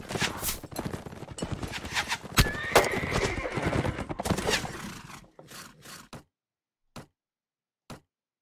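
Horse neighing and galloping in the video game Mount & Blade: Warband, a loud whinny over rapid hoofbeats that fade into a few separate clip-clops.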